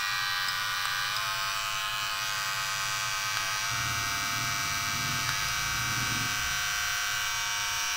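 A Kemei electric hair clipper, model KM 2712, KM 2713 or KM 5026, runs at 7000 RPM with a loud, steady high-pitched buzz that stays constant and close throughout, with no one talking.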